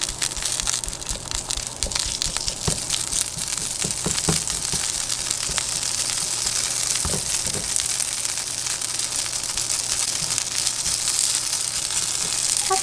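A hash brown being broken up in a frying pan, crunchy scraping and chopping taps repeating over a steady, loud sizzle of hot oil that runs throughout.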